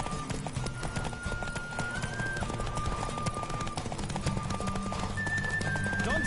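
Galloping horse hooves from the video game The Witcher, a steady rapid clip-clop rhythm running throughout under a continuous musical and ambient bed, with occasional whinnies.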